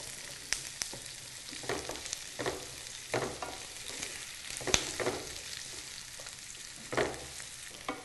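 Sliced onions frying in a pan until brown: a soft, steady sizzle with repeated scraping stirs that come at an uneven pace, and no talking.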